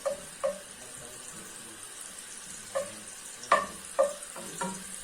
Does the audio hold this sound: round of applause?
no